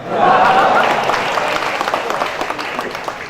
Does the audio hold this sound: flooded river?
no